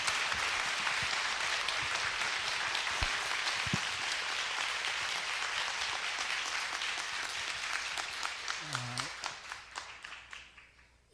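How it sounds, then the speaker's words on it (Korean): A church congregation at a Wednesday prayer service applauds to welcome a pastor, a dense wash of clapping that thins toward the end into a few separate slow claps, with a brief low tone near the close. "우리 목사님 올라오실 때 우리 박수로 우리 환영하겠습니다."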